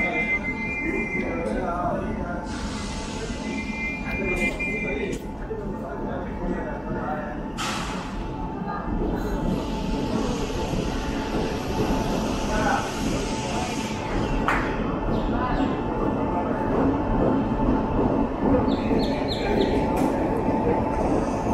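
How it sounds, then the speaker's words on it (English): Tambaram–Nagercoil Antyodaya Express hauled by a WAP-7 electric locomotive pulling into a station, a continuous loud rumble of wheels with occasional squeals and horn-like tones, heard among crowd chatter with a bird now and then. "That's our train, the Tambaram Nagercoil Antyodaya Express,"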